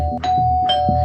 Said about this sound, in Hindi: कौन बेवकूफ है जो डोरबेल बजा बजा के नींद खराब कर रहा है सुबह सुबह?